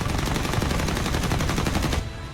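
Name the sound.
20mm cannon gunfire sound effect, F-89 aircraft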